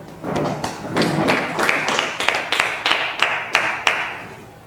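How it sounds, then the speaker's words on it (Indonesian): A small group in a classroom claps in a short, uneven burst, with individual hand claps and thuds distinct and close rather than a dense crowd roar. "Tepuk tangan."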